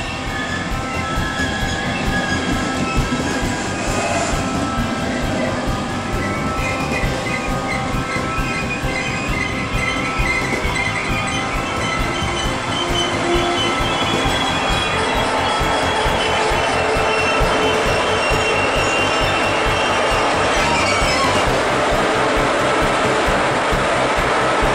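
Steady onboard ride noise inside a German regional express running between Heilbronn and Crailsheim: continuous rumble, rattling and hum with faint tonal whines, loud and unbroken for the whole stretch, no voices.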